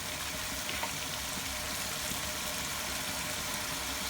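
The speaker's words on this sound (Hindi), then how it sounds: "1 से 2 मिनट और इसको भून लेते हैं।" Tomato masala for a cauliflower curry fries in a pan, giving a steady, close sizzle and crackle with no talking.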